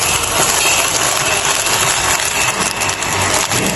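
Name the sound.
school-built garbage grinding machine running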